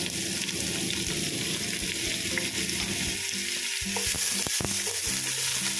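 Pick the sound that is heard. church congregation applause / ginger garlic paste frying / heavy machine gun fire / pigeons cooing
ginger garlic paste frying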